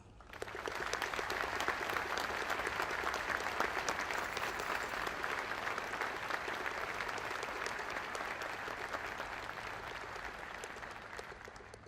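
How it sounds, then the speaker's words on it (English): Applause from a Veterans Day ceremony audience at Arlington National Cemetery swells in after a brief quiet start, then holds as dense, even clapping across the gathering before tapering slightly toward the end. "please join me in recognizing our veterans' national leadership with your applause"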